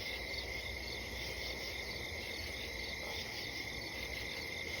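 Steady, dense cricket chirping at the Gettysburg battlefield fills the whole clip, a continuous high trill with no pauses and no voices.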